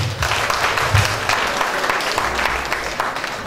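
An audience at an awards ceremony applauds in a sustained, fairly loud wave of clapping with a low murmur of crowd underneath, close and continuous throughout.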